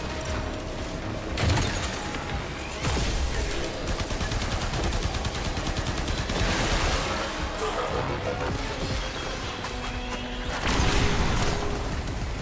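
Gunfire while shooting enemies in Warframe, with bursts of rapid shots, mechanical clanks and impacts rising and falling over several seconds, and occasional talk alongside.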